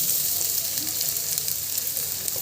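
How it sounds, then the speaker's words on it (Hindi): Onions frying in hot oil in a pan on a gas stove, giving a steady, close, bright sizzle and hiss with faint crackles throughout. "तो हमने गैस पे पैन गरम कर लिया है, इसमें ऑयल को डाल दिया है। तो इसमें डाल देते अपनी प्याज"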